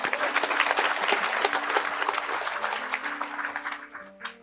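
A crowd at a Maiyah gathering claps warmly for a performer, a dense rolling applause that holds steady for several seconds before thinning out, with a few voices and musical tones underneath.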